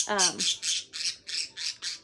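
Harsh, shrill pet bird squawks repeat in a steady series, about eight loud calls close by indoors, with a brief whistled chirp at the start.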